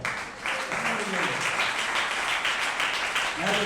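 Church congregation clapping during a Sunday sermon at Messiah Prophetic Church, a steady patter of hands with voices talking over it throughout.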